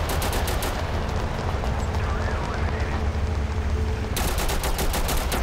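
Rapid machine gun fire from the war game Total Conflict: Resistance rattles in fast bursts, then pauses and starts again, loud and close, with voices talking under it.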